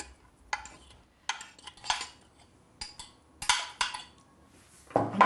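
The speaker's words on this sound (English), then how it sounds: "Just toss everything gently so it's mixed." Intermittent clinks and scrapes of a utensil against a pot as chicken pilaf with saffron rice and nuts is gently tossed, coming in short irregular bursts, close and fairly quiet.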